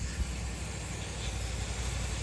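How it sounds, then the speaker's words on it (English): A steady, continuous hiss of aerosol cleaner sprayed onto the carburetor slide of a 1977 Honda XL100 motorcycle, running without pause, close up and fairly loud. "So I'm gonna go ahead and spray this slide off."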